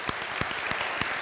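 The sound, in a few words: church congregation applause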